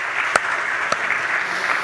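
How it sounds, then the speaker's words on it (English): Brief crowd applause at a political forum, a dense wash of clapping with a couple of sharp distinct claps standing out. "We can applaud to that."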